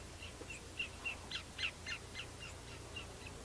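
A greater yellowlegs repeats a series of clear, ringing whistled calls, about a dozen evenly spaced notes over quiet low background hum, faint and somewhat distant at the edge of a lake.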